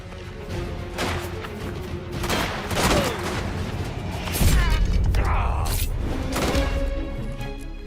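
Gunfire from a shootout in a mafia video game crackles in rapid bursts among thuds and crashes, mixed with game effects and voices throughout.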